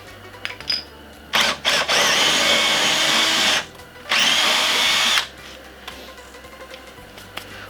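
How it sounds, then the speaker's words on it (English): A power drill whirs loudly while drilling a hole to mount a bracket, in two sustained bursts of a couple of seconds each, close by, with short quieter pauses and a brief rev before. "Okay, the hole is drilled."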